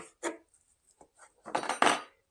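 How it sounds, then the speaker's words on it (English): A knife chops beef with fat for a hearty soup on a cutting board: a few sparse, quiet thuds and knocks, then a tighter cluster of louder chops near the end, with silence between. "chop this up"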